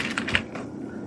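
Keys clatter on a computer keyboard as an SQL select query is typed, a quick run of a few sharp taps at close range with no talking.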